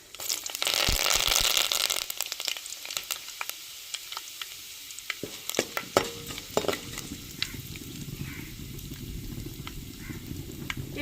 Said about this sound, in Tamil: எண்ணெய் சூடாச்சுங்க, கடுகு போட்டுக்கிறோம்.